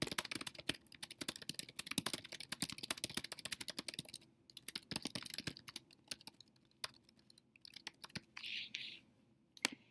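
Typing on a computer keyboard while entering contact details, with a fast, steady run of close, crisp keystrokes, a few slower taps and pauses toward the end, and no speech.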